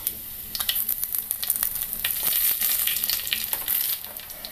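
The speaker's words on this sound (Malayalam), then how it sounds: "വറ്റൽമുളക് ചേർക്കാം." Dried red chilies hit hot coconut oil in a pan, a sharp crackling sizzle with bursts of spattering pops that settle into a steady fizzing hiss, close and moderately loud, no speech.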